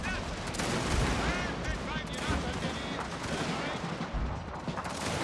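Musket volleys and scattered shots from infantry lines in a nineteenth-century Prussian battle strategy game, crackling at a middle distance under a bed of shouting soldiers and battle noise, with occasional heavier booms.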